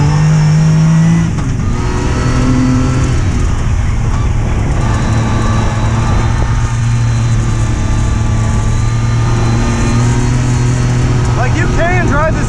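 A Yamaha YXZ side-by-side driving fast on a lap at Holopaw, its engine droning loudly and steadily from inside the vehicle, with wind rush and a brief rev change, while someone talks over it.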